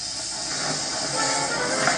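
Cartoon steam locomotive James releasing a huge burst of steam after a red balloon lands on top of him, a steady loud broadband hiss sustained throughout.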